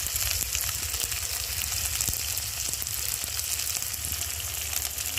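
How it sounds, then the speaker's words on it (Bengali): Ground spices with chili and turmeric powder fry in a pan for chickpea curry, a continuous close sizzle over a low hum with occasional spoon clicks as the masala is stirred. "মশলাটা আমি একটু ভালো করে কষিয়ে নেব"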